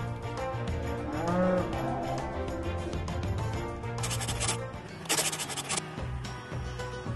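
Cattle moo repeatedly in a dairy farm's milking parlor, with steady clattering and scraping of equipment running underneath the calls throughout.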